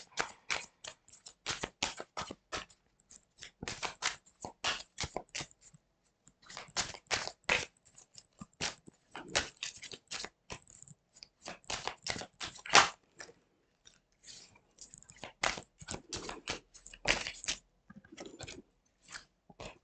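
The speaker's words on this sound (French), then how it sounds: "je vais vous tirer 2 cartes de l'oracle enchanteur pour avoir les énergies principales pour ce mois de juillet" Oracle cards are shuffled and drawn, making a dense run of quick crisp card flicks and papery riffles. Short bursts with small gaps repeat close to the listener throughout, with no voices.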